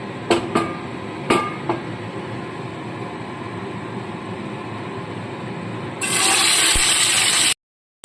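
Pabda fish frying in hot mustard oil in a wok, a steady loud sizzle with a few sharp pops early on, swelling into a harsher, brighter hiss near the end before cutting off.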